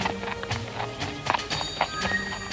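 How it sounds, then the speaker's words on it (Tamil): Cartoon hooves of a musketeer's horse clip-clop in a quick, steady rhythm of distinct knocks, with a brief whinny-like tone and light background music. "அவரோட குதிரை டீட்டோன் மேல ஏறி போனாரு"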